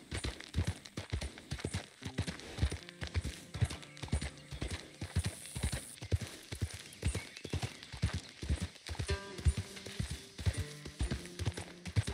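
Horse hooves clip-clop at a steady trot in Red Dead Redemption 2, loud and close, with the horse's occasional snorts and tonal game music running underneath for about twelve seconds.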